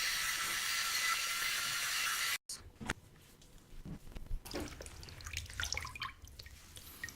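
Water splashing and dripping from a bowl during a shave, after a steady hiss gives way to a brief silence, then close, irregular small splashes and trickles continue alone.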